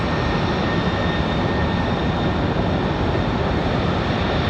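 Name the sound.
UPS airliner at Raleigh Durham airport runway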